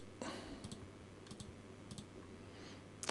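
Sharp computer mouse clicks land in small clusters, some double, at close range over a quiet room hum while working in Unreal Engine.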